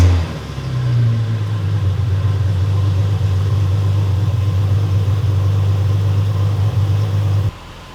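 Engine of a project car named Sally cranks briefly, catches, and settles into a loud, steady low idle that rumbles evenly close to the microphone before cutting off abruptly near the end.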